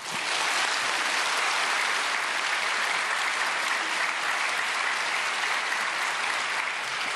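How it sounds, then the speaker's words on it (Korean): A congregation gives loud, sustained applause at a prayer meeting for peaceful reunification, welcoming a speaker, with the clapping dense and unbroken from start to finish. "우리 힘차게 박수로 환영하겠습니다"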